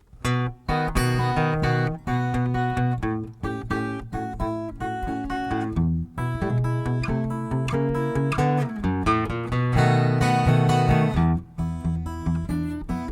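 An acoustic guitar plays a bluesy turnaround phrase, plucked notes and chords moving in a steady rhythm, close and clear with no voices.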